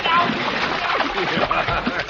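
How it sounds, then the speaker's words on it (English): Water splashes and pours over a person in a bathtub, loud and close, with sloshing throughout the short stretch. "don't pour that water on me"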